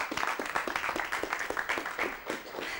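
Audience applause for the first prize at a youth debate on juvenile delinquency, a steady patter of many hands clapping at moderate distance, continuous and without speech.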